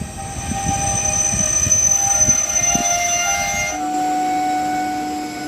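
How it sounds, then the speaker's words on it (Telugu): The KSR Bangalore–Dharmavaram MEMU express rumbles and clatters close by as it pulls away, a steady mechanical hum and tonal whine running throughout and settling into a smoother drone near the end. "ట్రైన్ 11:49కి బయలుదేరింది."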